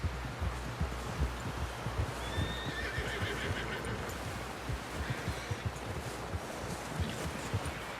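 Horse whinnying and hooves thudding in Red Dead Redemption 2, with a dense rumble of steady clip-clop close up and a brief neigh partway through, running without speech.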